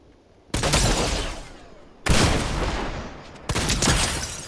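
Three loud, separate gunshots in Fortnite, each a sharp blast with a long decaying tail. They are spaced about one and a half seconds apart over quiet game ambience.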